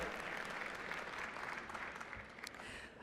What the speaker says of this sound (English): Shout out to this table right here to get that clap going.